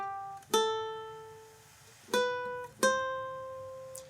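Ukulele picks out the closing notes of a cartoon theme, three sharply plucked notes with ringing decay, the last two close together, then a faint fourth pluck at the very end, played alone in a quiet room.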